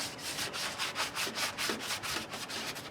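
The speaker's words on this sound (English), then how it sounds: "So now it's sanded." Rapid, rhythmic hand sanding of rusted metal on a front-loading washing machine, a steady series of rasping back-and-forth strokes, close and continuous.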